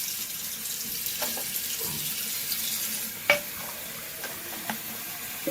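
Hot water runs steadily from a tap fed by a Rheem RTEX-18 tankless water heater, a soft continuous hiss with a few faint clicks and one sharper knock partway through.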